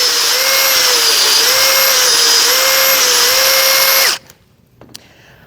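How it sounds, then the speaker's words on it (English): An electric drill spins a reamer through a pen blank to clean out glue, a loud steady high whine lasting about four seconds before cutting off, followed by a faint tap. "I keep the drill running the whole time."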